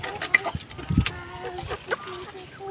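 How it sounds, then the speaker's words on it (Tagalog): Backyard chickens clucking at a farm pen, several short clucks and soft calls scattered across the moment, fairly close, with faint background noise. "Look at the chickens."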